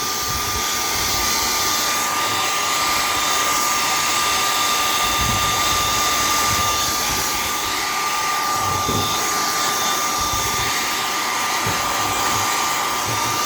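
Hair dryer blowing hot air onto leather boots to soften them, a loud continuous whooshing roar with a steady whine, close by and unbroken, with faint handling knocks underneath.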